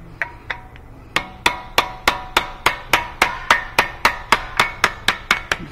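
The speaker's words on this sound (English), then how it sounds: "Just keep beating it till it's all the way out of that hub." A hammer strikes metal in a steady, rapid series of loud, ringing blows, close up, about three hits per second, driving a CV axle out of the hub of a 2013 Nissan Altima.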